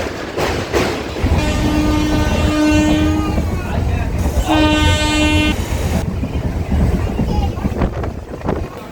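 A train on the Howrah to Digha line crosses the Kolaghat Ganga bridge with a steady rumble and clatter of wheels, broken by two loud horn blasts, heard from on board.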